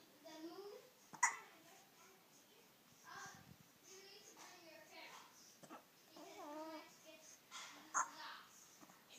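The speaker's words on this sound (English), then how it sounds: "Hiccups." A young boy dressed in a Barong Tagalog hiccups a few times, with sharp, brief catches standing out over an adult woman's soft, affectionate talk and the child's babbling.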